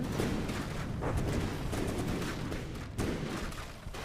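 Warship guns firing in a naval battle video game, with the Imperator's rear turret joining a match against the Wilkes-Barre. Dense, continuous booming rumble with a sharper blast near the end and no talking.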